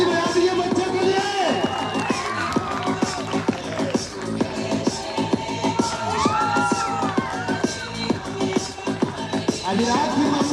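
An audience claps and cheers for children at a lively stage event, with continuous crowd noise, whoops and shouts mixed with music and a voice talking over it.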